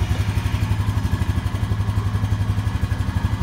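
A 2010 Honda Rancher 425 ATV engine with a flashing engine light runs steadily close by, a loud, even, rapidly pulsing idle with mechanical clatter and no talk over it.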